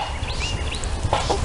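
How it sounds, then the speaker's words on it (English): Several chickens cluck and squawk softly at a backyard coop, with short bird calls rising over a dull low background hum. "down here at the chicken coop and getting ready to let these spoiled chickens out"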